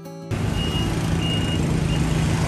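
Tarpaulin truck idling close by, starting abruptly and holding a steady low engine rumble with a faint repeating high tone above it.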